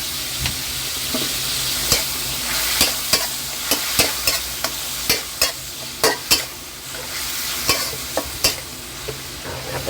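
Minced pork stir-frying with sugar, seasoning and soy sauce in a pan: a constant close sizzle punctuated by repeated sharp clacks of the spatula scraping and tossing, with no talk.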